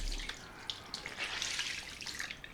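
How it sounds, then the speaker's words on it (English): Water runs from a tap while a cloth is rinsed at a bathroom sink after a shave, a soft close splashing and trickling with small drips over a few seconds. "Rinse off the cloth."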